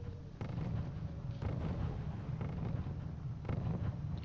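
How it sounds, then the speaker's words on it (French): Artillery in a strategy video game fires in continuous rumbling barrages, with sharp booms recurring about once a second over a dense, loud low roar. "il essaye toujours de détruire mes DCA avec son artillerie"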